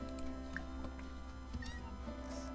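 A cat meows in The Sims, a short close call over a steady game music and ambient bed, with no talking.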